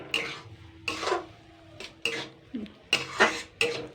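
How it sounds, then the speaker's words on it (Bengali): Semolina being stirred into a dough in a pan over low heat, with intermittent scraping and knocking strokes of a utensil against the pan in an irregular rhythm, close and moderately loud. "নাড়তে নাড়তে একটা ডো বানিয়ে ফেলতে হবে কিন্তু"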